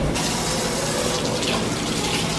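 Hot water gushing steadily from a tap into a bowl of rice as a prison burrito is being made, a loud, continuous rushing splash that starts abruptly and carries on with no talk.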